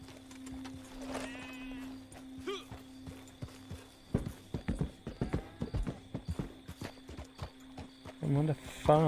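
Hooves clop in a quick, uneven rhythm, close and clear, and a horse whinnies near the end on a farm in the video game Red Dead Redemption 2, with faint sheep bleating in the background.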